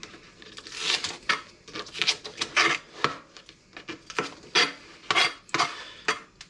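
A home kitchen knife, not a professional chef's knife, chopping siu mai ingredients on a board in quick irregular strokes, crisp close taps and scrapes repeating steadily throughout.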